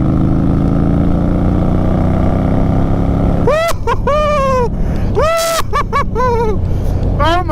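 A 2018 Indian Scout Bobber with a Vance and Hines slash cut exhaust on the move, its steady loud engine drone broken by sharp rising and falling revs and throttle blips, with heavy wind rush throughout.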